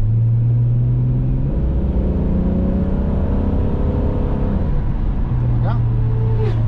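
Toyota Supra Turbo III engine pulling under acceleration as the turbo builds boost, a steady loud cabin drone with rising engine tones throughout, while someone talks over it.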